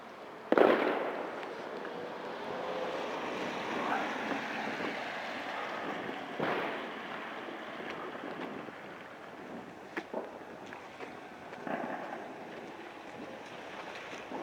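Firecrackers and fireworks burst on New Year's Eve outdoors, a loud close bang at the start followed by scattered nearer and more distant pops and crackles over wind noise.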